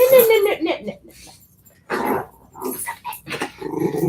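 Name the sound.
puppy growling while playing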